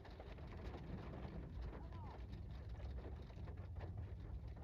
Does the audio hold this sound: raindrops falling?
yes